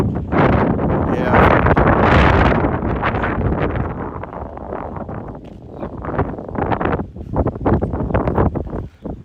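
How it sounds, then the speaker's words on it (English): Strong, continuous wind buffeting the microphone outdoors in Sainte-Mère-Église, loud roaring gusts that swell and ease throughout. "It's very windy."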